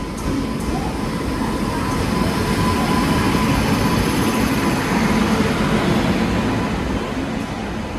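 The Puri Express pulls into Khurda Road Junction with a loud, steady rumble of rolling wheels and a broad roar that fills the platform, sustained close by throughout without talk.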